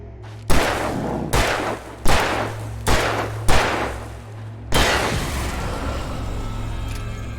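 Six sharp gunshots fire from a handgun in Alan Wake Remastered, spaced about half a second to a second apart, loud and close over a low steady hum, with the last shot trailing into a long ringing decay.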